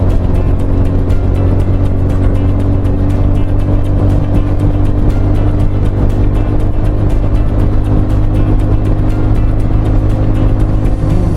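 Motor traffic on a highway bridge near Kamshet, heard from a moving motorbike: a steady, loud engine and road drone with constant wind rumble as a motorbike passes by, without any speech.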